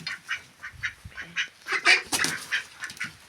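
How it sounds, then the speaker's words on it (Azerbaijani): A duck being carried to its nest in a poultry yard quacks repeatedly in a quick series of nasal calls, close and fairly loud, with a few harsher overlapping squawks midway. "Neyse, ördeği de getirim otursun yuvasında"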